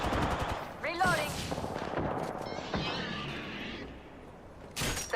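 Rapid bursts of video game gunfire in a battle royale match, loud close volleys separated by pauses, with a mechanical reload clatter in between and a final burst at the end.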